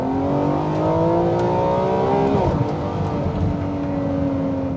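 A Ferrari 599 GTO engine revs loud and close in a steady mechanical drone, its pitch sliding down briefly mid-way before climbing again, with no talk over it.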